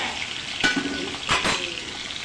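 Fish fry in hot oil in a pan with a steady, close sizzle, broken by two short bursts of louder crackling and scraping as the pieces are moved.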